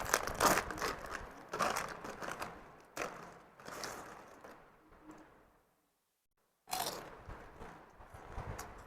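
Jhalmuri-flavoured wafer chips are crunched close to the mic in repeated crisp, crackly bites and chewing bursts, with a brief silent pause before another loud crunch.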